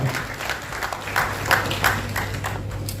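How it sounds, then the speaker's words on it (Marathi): An audience at a social unity conference in Chiplun applauds a speaker's arrival with a swelling, irregular wash of clapping over a low steady hum. "जोरदार टाळ्या आपण स्वागत करूया तीक्षणा गायकवाड"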